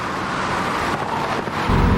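An MG ZT 260 accelerating hard in 4th gear from 40 mph, heard as a steady loud engine and road roar from inside the car that swells and deepens near the end.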